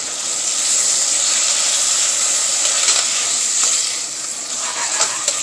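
Sofrito and beans sizzle steadily in a pot on the stove, a continuous hissing fry, close and fairly loud, with a few soft scrapes of stirring near the end and no voices.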